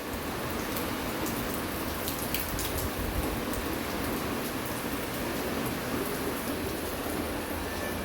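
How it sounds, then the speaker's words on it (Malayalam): Heavy rain falling steadily, a constant hiss with scattered drops pattering on a nearby surface. "നല്ല മഴയാണ്, മഴ കാണിച്ചു തരാം."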